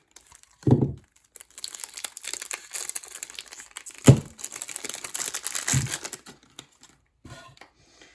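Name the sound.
unwrapping a new 4x4 speed cube from its packaging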